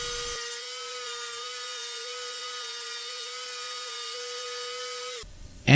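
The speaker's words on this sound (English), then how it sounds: "so I need to cut it more" A small rotary tool grinds a flat into the steel rear axle of a WPL D12 RC truck, a steady high-pitched whine held for about five seconds before it cuts off with a brief clatter.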